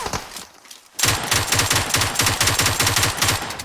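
Rapid automatic fire from the MK47 Mutant rifle in the mobile battle royale game PUBG Mobile, a loud, dense burst of shots that begins after a brief quieter lead-in and continues steadily to the end.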